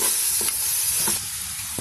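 Caldereta being stirred with added salt and pepper in a pan, a loud continuous sizzling hiss with a few soft scraping strokes, close and steady, fading slightly near the end.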